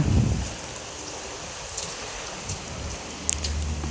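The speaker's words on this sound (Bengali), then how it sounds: "অনেক বাতাস, অনেক বৃষ্টি।" Heavy rain pours outside a pigeon house, a dense steady hiss with gusts of wind and occasional sharper drips, loud and continuous with no voices.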